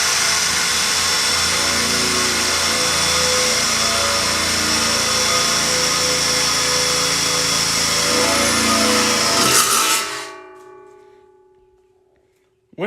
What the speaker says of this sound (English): I didn't have to put nearly as much pressure on the drill